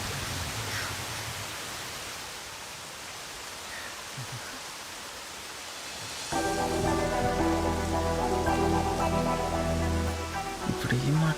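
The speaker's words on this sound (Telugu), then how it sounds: "వర్షం చాలా చల్లగా ఉంది కదా" Steady rain falls in a soft, even hiss during a comedy film scene, and after about six seconds music swells in and plays over the continuing downpour.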